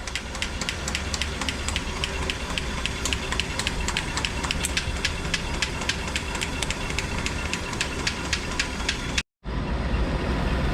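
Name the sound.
Rolls-Royce Phantom III engine running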